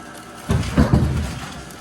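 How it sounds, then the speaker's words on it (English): A bar stool knocked over by a cat lands in a kitchen with a sudden thud, then a couple of clattering knocks as it settles, over a steady background hiss. "We had a cat knock over the bar stool."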